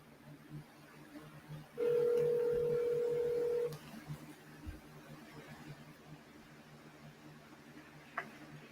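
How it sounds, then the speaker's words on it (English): A single steady telephone keypad DTMF tone held for about two seconds, clear and fairly loud over a quiet room hiss, followed by faint clicks. "Let's try calling this number."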